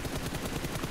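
Faint, rapid gunfire rattles in quick succession from a PUBG Mobile esports match, a steady burst of shots heard from a distance.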